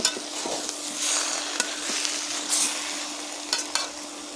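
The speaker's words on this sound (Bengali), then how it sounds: "আমি আবারও ভালো করে তরকারি নেড়ে দিচ্ছি।" Spinach curry with potato, aubergine and lentil dumplings being stirred in a pan, a steady soft hiss of simmering broken by a few scraping clicks of the spoon, close and moderately loud, with no talking.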